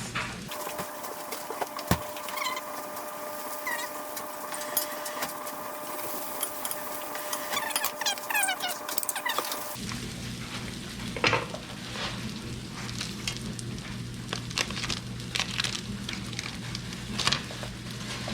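Onions frying in a pan on the stove, a continuous close sizzle with bursts of crackling and stirring scrapes; partway through, the sizzle drops and the tone changes, then carries on busily to the end.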